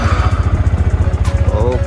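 A motorcycle engine, loaded with luggage, starts up cold on a cool morning and settles into a steady, loud, rhythmic low thumping idle close by, with brief clattering on top.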